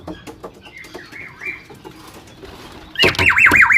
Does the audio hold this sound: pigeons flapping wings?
yes